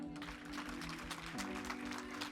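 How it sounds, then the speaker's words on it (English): Audience clapping at a school film awards crowning at St Peter's S.S. Nsambya, a steady spread of many hands under a sustained musical tone. "Please clap for them"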